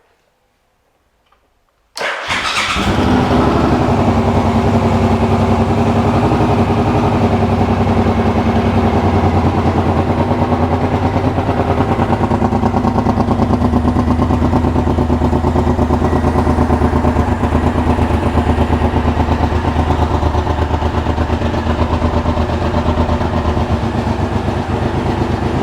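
A Suzuki Boulevard M1500 motorcycle engine cranks briefly after silence, then catches and settles into a steady, loud, rumbling idle that runs close and unbroken to the end.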